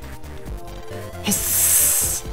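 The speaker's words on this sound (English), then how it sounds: "That's the sound of a net-frickin' cobra about to strike." Net cobra in the Mega Man Battle Network 4 video game hissing: a bright, sustained spray-like hiss that lasts about a second over chiptune game music.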